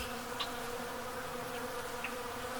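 Honey bees hum at a flow hive during the April 8, 2024 solar eclipse, a dense, even, close buzzing with a few individual bees flitting past, no voices.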